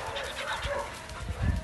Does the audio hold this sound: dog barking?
yes